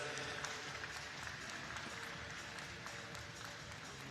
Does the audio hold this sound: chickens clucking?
no